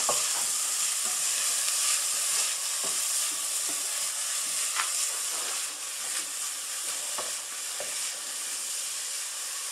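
Chopped leek sizzles steadily in a hot pan while being stirred for mushroom and tarragon velouté, a continuous frying hiss broken by scraping stir sounds, close and fairly loud with no talking.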